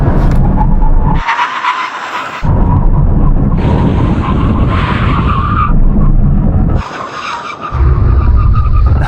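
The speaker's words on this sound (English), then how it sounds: "Now we're going to have a brake test from 100 miles an hour when we reach the line full emergency stop" Cars under full emergency braking from 100 mph on a drag strip, with a Toyota GR Supra, Porsche Cayman GTS and Alpine A110 S, giving loud sustained tire skidding and roaring engine and road noise in repeated bursts, no talk.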